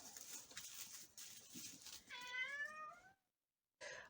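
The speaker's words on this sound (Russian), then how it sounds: "А кот меня ждет, когда я начну доить козочку." A house cat waiting near goats at milking time, giving one clear, drawn-out meow after soft rustling, then a brief silence and another short sound.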